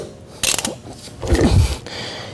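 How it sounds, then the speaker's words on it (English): A 46 mm socket loosens the seat of a Pietro Fiorentini TRIAS gas regulator: a sharp metallic clack, then a short grinding, ratcheting wrench of the seat breaking free, close and loud with no talk. "you simply take a 46 millimeter socket, you put it on the bottom of the regulator"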